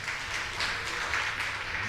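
Audience applause at a symposium, moderate and fairly even, heard a little distantly in a hall without talk on top.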